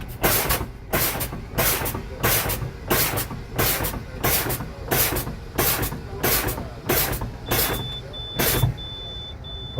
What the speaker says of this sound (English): now I'm about to pump down my brakes till I get to 60 PSI, and my warning light and buzzer is going to come on for my gauge